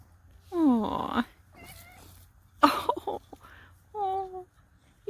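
A pet cat outdoors by a garden meows up close, three separate drawn-out calls with short pauses between them and faint soft sounds in the gaps.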